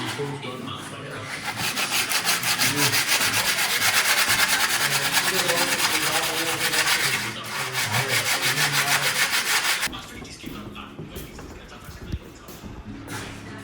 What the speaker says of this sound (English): so we sanded the 3 in this room, and the point is to get all the rough peeling away